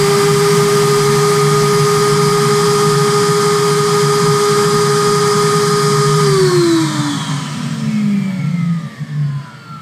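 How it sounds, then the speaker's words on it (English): A record cleaning machine's vacuum arm runs with a loud, steady whine and motor hum, then the pitch slides downward as the suction note changes near the end; no talking. "Drop the vacuum arm on."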